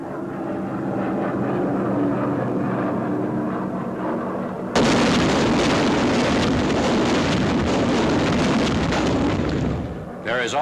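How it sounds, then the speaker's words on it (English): M69 jellied gasoline incendiary bombs dropped from aircraft, a droning engine roar that abruptly gives way to a loud, sustained wash of rumbling blasts, heard as an old wartime newsreel recording. "Another drop of the jellied gasoline bombs."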